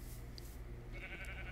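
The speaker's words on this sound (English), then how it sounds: "Hello, sheep." Sheep in the Minecraft video game bleat faintly and briefly over a low, steady background hum.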